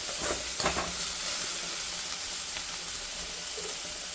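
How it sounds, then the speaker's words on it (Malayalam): Prawn theeyal curry boils in a pan on the stove, giving a continuous close bubbling and sizzling with a few sharper pops near the start. "ചെമ്മീൻ തീയൽ ആഹാ തിളച്ച് മറിയുന്നുണ്ട്"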